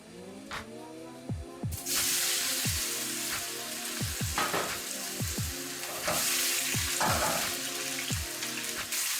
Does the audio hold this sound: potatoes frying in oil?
yes